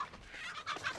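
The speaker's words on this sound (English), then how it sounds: "Alerting the chicken over there." Chicken clucking in The Texas Chainsaw Massacre video game, a short burst of clucks at moderate level over a steady game background.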